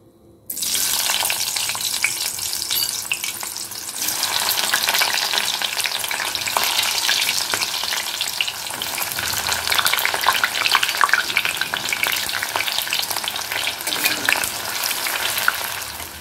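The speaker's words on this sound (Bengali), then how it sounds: "এবার আমি এর মধ্যে কুচনো পেঁয়াজ ছেড়ে দিচ্ছি।" Chopped onions fry in very hot oil in a pan, a loud continuous sizzle with occasional stirring scrapes throughout and no talking.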